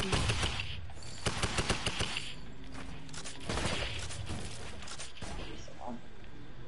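Three-round burst rifle fire in Fortnite, with quick clustered shots popping around the first second amid a busy, constant wash of game noise and action.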